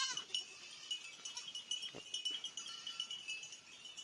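Goats bleat repeatedly at a distance on a goat farm, overlapping cries coming and going throughout, fairly faint against a quiet outdoor background.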